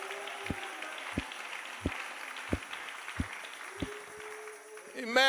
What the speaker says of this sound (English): Everybody clap your hands to the Lord together.